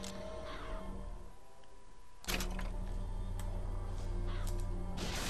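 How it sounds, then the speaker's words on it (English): Summoned murderous crows caw in Bioshock Infinite, harsh calls repeating over a steady game background hum, with a louder burst of activity midway. "Press to summon murderous crows."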